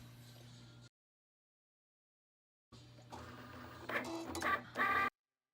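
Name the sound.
Cricut cutting machine cutting a vinyl decal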